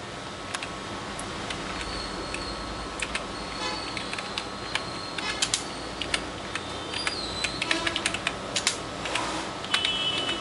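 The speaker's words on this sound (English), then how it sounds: "Now I am typing the message." Fingers type a message on a computer keyboard into a terminal program for a GSM modem setup, producing rapid, uneven clusters of crisp key clacks close by over a low room hum.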